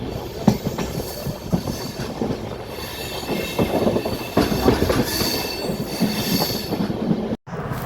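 A passenger train travelling from Sullurpeta toward Guntur, heard from inside a carriage: steady rolling rumble with rhythmic clickety-clack of wheels over rail joints and occasional high wheel squeals, loud and close.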